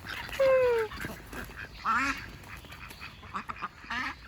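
Several ducks quack and call close by while feeding on food scattered for them on a château's grounds, with a few separate bursts of calls over soft outdoor background noise.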